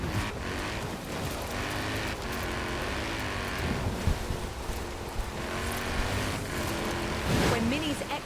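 Mini X-Raid Countryman Dakar rally car in Forza Horizon 4, its engine a steady heavy rumble with wind and surf-like noise running continuously throughout, a speaking voice over it.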